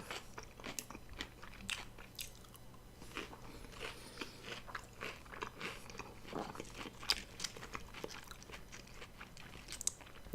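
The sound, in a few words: biting and chewing crunchy vegan meat pie crust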